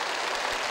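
A studio audience on a Vietnamese television picture-word quiz show breaks into a brief round of applause, a dense burst of clapping with no voices over it.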